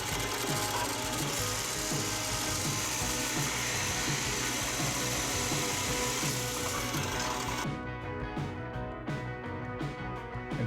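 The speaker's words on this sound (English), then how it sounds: "drill the hole in one end," Electric drill boring a hole into one end of a plywood dice-vault lid, a steady whirring motor with dense mechanical rattle running continuously, then stopping and leaving a series of short, lighter taps and clicks near the end.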